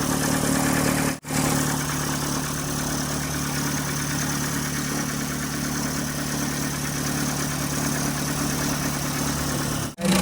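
A Vauxhall Corsa engine idles steadily while warming up, a constant close hum with a fan running and no change in pitch, briefly cut twice.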